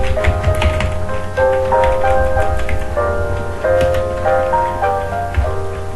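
Quick, light keystrokes on a computer keyboard, typing a chart title in MS Excel, come in short irregular bursts of clicks over a melodic background music bed.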